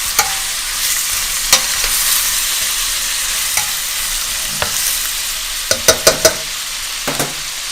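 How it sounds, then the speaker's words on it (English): Frozen vegetables hiss steadily in a hot oiled pan, with a spoon clacking against the metal as they are stirred and coated, the sharp scrapes bunching together near the end. "I just want to get these coated and mixed around."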